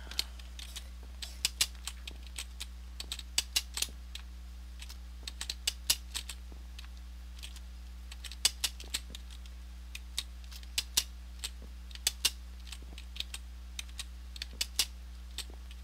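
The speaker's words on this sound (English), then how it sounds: "sorry guys if you can hear my keyboard click click clicking away" A computer keyboard clicks rapidly and unevenly as someone types in bursts, close and fairly quiet over a low steady hum.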